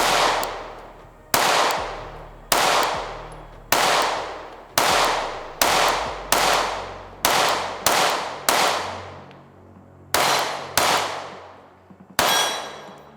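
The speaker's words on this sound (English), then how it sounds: "we shot the steel target in the middle there" Repeated gunshots at a shooting range, about a dozen sharp loud cracks at uneven intervals, each ringing out briefly as rounds strike steel and rubber targets, with no voices.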